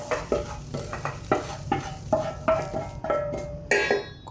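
A spoon scrapes and stirs scrambled egg into biryani rice in a pan, rhythmic metallic strokes roughly every half second over a faint sizzle.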